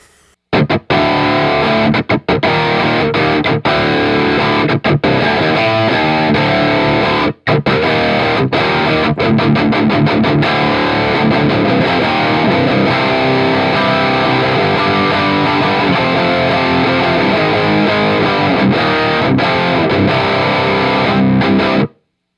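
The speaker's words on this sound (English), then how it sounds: "Here's what the amp sounds like." Heavily distorted electric guitar through a small Laney Ironheart 15 Rev 2 tube amp plays loud and continuous, a thick high-gain tone with chugging riffs and only a couple of brief breaks.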